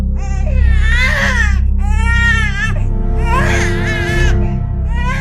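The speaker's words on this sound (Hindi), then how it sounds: "डिब्बी के अंदर से एक छोटे बच्चे के रोने की आवाज आ रही है।" A small baby cries from inside a silver box in a haunted mansion: loud, close, wavering wails in repeated bursts with short gasps between, over a low droning background.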